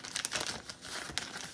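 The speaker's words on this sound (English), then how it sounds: "And then I'll put this plastic bag" A plastic bag handled over a seed-starting tray, crisp close crinkles and rustles in several quick bursts over a second and a half, moderately loud with nobody talking.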